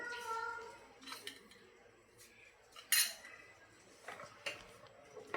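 A spoon clinks and scrapes against a pot while stirring sugar into vermicelli kheer, with scattered metallic taps at an uneven pace and a few sharper knocks, quiet and close.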